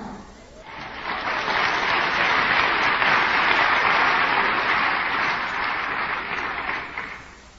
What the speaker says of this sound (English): Folks, no more clapping, please.